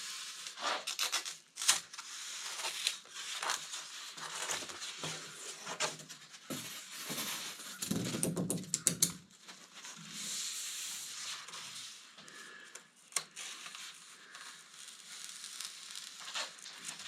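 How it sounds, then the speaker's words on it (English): Sanding filler on a 2024 Ford Transit 250 camper van conversion, a continuous close rasping scrub that surges and eases, with a few sharper knocks and no talk. "it sands very easily"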